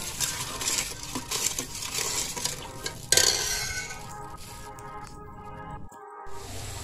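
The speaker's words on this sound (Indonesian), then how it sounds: "Kemudian kita aduk-aduk hingga merata seperti ini." A spoon stirs sugar into coconut milk in a pot, scraping and clinking steadily against the metal. A sharper knock comes midway, then the stirring fades softer toward the end.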